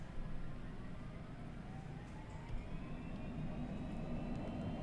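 An airliner's engines spool up for takeoff in Microsoft Flight Simulator 2020, a steady jet roar with a rising whine that climbs slowly as the throttle is advanced.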